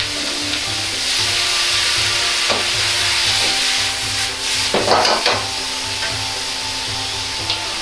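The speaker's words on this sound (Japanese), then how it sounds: "野菜を入れたら強火でしっかり炒めましょう。" Vegetables sizzle loudly in a hot wok over high heat while being tossed and stirred for wood ear mushroom, pork and egg stir-fry, with scraping and clattering over a constant hiss, no talking.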